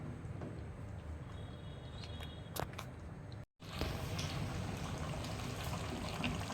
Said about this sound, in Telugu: మనం వాటర్ యాడ్ చేస్తున్నాం.